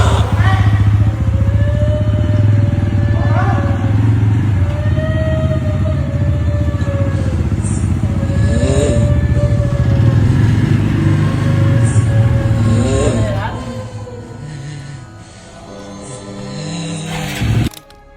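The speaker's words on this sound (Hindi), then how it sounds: "बाइक चलाते हुए एक भूतिया पुल को पार कर रहा होता है।" A motorcycle rides across a bridge at night with a loud, steady engine drone close by, rising slightly as it passes, while a voice speaks over the rumble and the sound drops off near the end.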